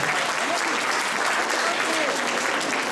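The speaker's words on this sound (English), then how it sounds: "Big round of applause for them." Dense applause from a Durga Puja gathering honours the outgoing committee, steady and loud throughout, with faint voices mixed into the crowd.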